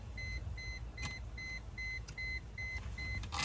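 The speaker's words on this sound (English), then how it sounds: "Sorry for the beeping." A car's warning chime beeps about eight times in a steady, even rhythm during garage repair work, with occasional clanks of parts being handled and a low background rumble.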